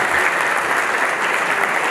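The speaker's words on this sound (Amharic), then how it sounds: "አሁን በሁለት እጅ በደንብ አጨብጭቡላቸው" A seated audience claps hard with both hands, a loud, dense and continuous burst of applause.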